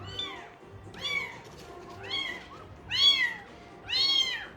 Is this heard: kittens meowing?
yes